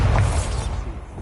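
A Bombarda explosion spell going off in Hogwarts Legacy, a single loud burst with a low rumbling blast that fades over about a second.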